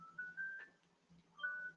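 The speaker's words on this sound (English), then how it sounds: "Where's that phone alarm?" A phone alarm sounds in a quiet room as a steady electronic tone that sustains, breaks off, then returns as a second burst near the end. It is faint and has no talk over it.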